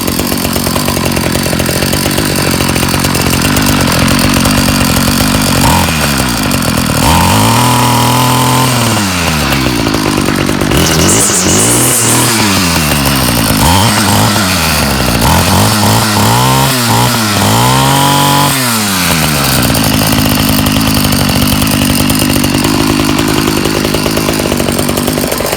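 A Ryobi 31cc two-cycle string trimmer engine running after fuel line and muffler repair, a loud steady buzzing drone that revs up and down repeatedly in wavering surges, close and continuous throughout.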